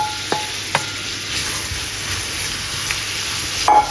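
Chopped onion, garlic and shallot hit melted butter in a pan, giving a close sizzling hiss with a couple of sharp utensil knocks and a brief scrape near the end, no voices.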